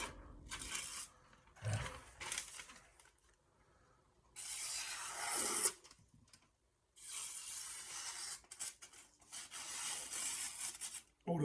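A Masono 10mm knife is ground on a coarse Shapton Pro #320 whetstone, giving loud, gritty rasping strokes in long sweeps separated by brief pauses, close up.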